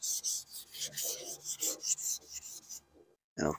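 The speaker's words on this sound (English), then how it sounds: "I'm gonna give it a once over with 400 grit paper" Rhythmic rasping strokes of fine 400-grit sandpaper on wood, about a dozen back-and-forth passes at a steady pace, close by, followed by a brief pause and one more stroke.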